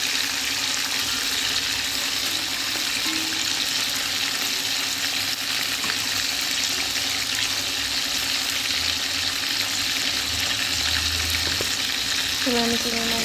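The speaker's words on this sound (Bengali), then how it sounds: "আমি একটা একটা করে চিংড়ি মাছ এরকম করে উল্টে উল্টে ভেজে নিচ্ছি।" Shrimp fry in hot oil in a pan, a loud, steady sizzle throughout with faint clinks of turning near the end.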